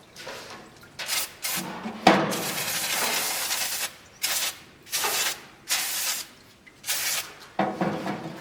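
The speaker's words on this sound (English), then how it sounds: "Get them cleaned up and sprayed off with brake clean and hanging to dry." Brake cleaner sprays onto engine head gaskets in a series of loud hissing bursts, each lasting a second or two and separated by short pauses, close by.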